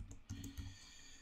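Someone types code on a computer keyboard, a few soft quick key clicks in a short burst, faint and close in a quiet room.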